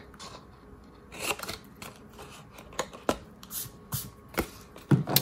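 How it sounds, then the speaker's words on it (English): Scissors snipping through paper tabs for a Halloween card craft, a series of sharp, close, crisp cuts spaced irregularly with short pauses, alone without talk. "I'm just going to angle cut this one and this one over here."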